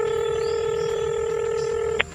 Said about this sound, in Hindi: लाओ दूसरा नंबर मिलाई।